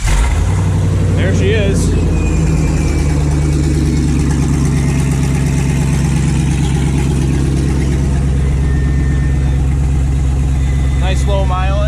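A 6.0 LS V8 engine idles steadily in a car, a loud continuous low rumble close by, while someone speaks briefly over it.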